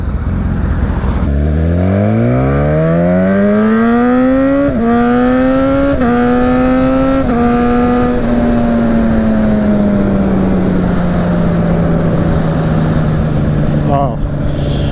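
A Katana motorcycle accelerates hard, its engine note climbing through several gear shifts, then settling into a steady, loud drone while cruising; wind rush stays constant throughout.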